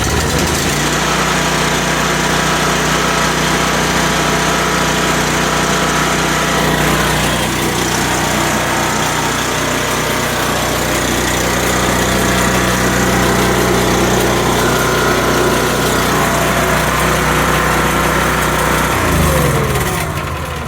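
A Belle Midi 20-140 hydraulic power pack engine runs steadily in a workshop after repair, a loud, close, continuous small-engine drone with a constant buzzing tone and slight rattle throughout.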